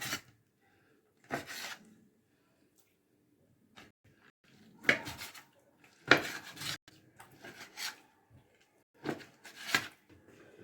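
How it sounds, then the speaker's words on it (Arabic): A knife cuts chicken breast into small cubes on a board, giving a handful of separate short chopping strikes with quiet pauses between them, close and fairly soft, with no talking. "هبدأ اقطع عندي صدر الفرخة المكعبات صغيرة بالشكل ده."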